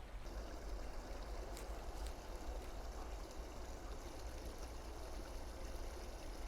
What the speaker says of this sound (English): You can just see the amount of water that's coming out of that pipe.